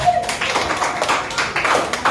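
A class of students claps after presentations, a short, moderately loud patter of hands in a room with a few distinct slaps standing out.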